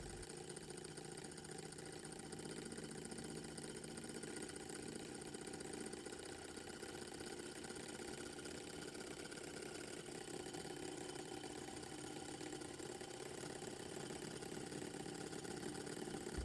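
A Stirling engine drives a small electricity generator, running with a steady mid-pitched mechanical hum and whir that holds constant throughout, with no voices.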